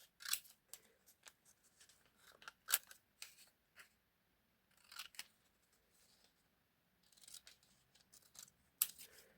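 Scissors cutting through pages of free Kaufland and Pepco store magazines, with irregular crisp snips and paper rustles close by, separated by short quiet gaps.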